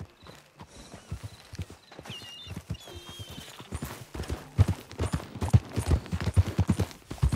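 Horse hooves clip-clopping at a steady riding gait in Red Dead Redemption 2, close and rhythmic, growing louder and denser as the ride goes on, with a brief whinny and faint background sounds.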